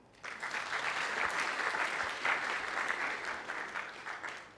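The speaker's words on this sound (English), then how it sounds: "Are you not clapping?" Audience of fresh students applauding at a university orientation, a dense steady wash of many hands clapping that starts abruptly and holds strong for several seconds before easing slightly at the end.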